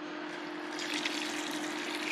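Dirty water flows from a brass stainless ball valve in a steady, even rush with a constant faint tonal hum underneath and no talking.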